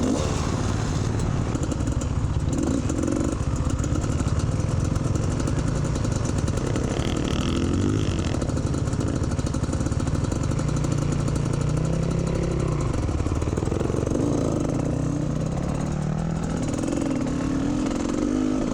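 Dirt bike engine running steadily at a fundraising trail ride, a continuous loud mid-pitched drone with shifting revs that rise and fall throughout, close by and with no talk over it.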